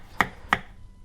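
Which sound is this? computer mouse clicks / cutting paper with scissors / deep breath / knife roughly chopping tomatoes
knife roughly chopping tomatoes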